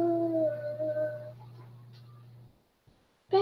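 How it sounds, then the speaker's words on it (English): A dog howls in a long, drawn-out wavering tone heard close by, fading away before a short high yelp at the end, with no talk over it. "Oh, a dog."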